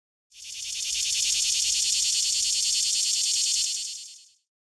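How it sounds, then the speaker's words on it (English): A loud, continuous high-pitched cicada buzz with a fast pulsing texture, holding steady for about four seconds before cutting off. "Cicada."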